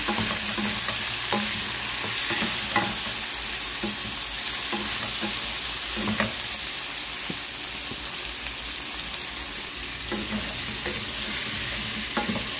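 Banana, carrots and potatoes lightly frying in a pan for Filipino pork soup, a continuous close sizzle broken by occasional clicks and scrapes of stirring.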